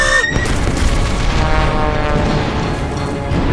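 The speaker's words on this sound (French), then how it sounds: "Des explosions." Loud, dense booming blasts pile over one another in a continuous rumbling barrage, close and heavy throughout.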